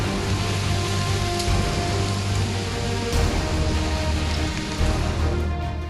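Heavy, incessant rain pours down loudly and steadily, a dense unbroken hiss of drops beating on surfaces, close and enveloping with no voices.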